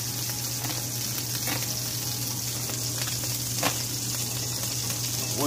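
Shrimp frying in a pan beside steak, a steady close sizzle and crackle with occasional sharper spits and scrapes as they are turned, under a low constant hum.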